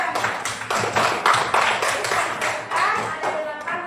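Students in a classroom clap for a classmate, a quick run of brisk, close handclaps with loud rhythmic bursts and a few voices mixed in.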